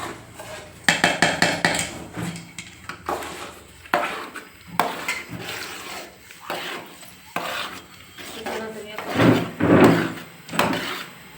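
A spoon scrapes and stirs a thick flour mixture through syrup in a cooking pan, giving irregular rubbing and clacking strokes that come in close bursts with short pauses.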